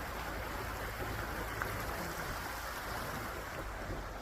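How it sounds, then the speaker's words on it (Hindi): Cold water flows in a mountain stream below a high-altitude army post on the route to Adi Kailash, giving a steady, dense, close rushing wash that holds even and continuous throughout with no voices. "ये देखिए कितना ठंडा पानी बह रहा है नीचे।"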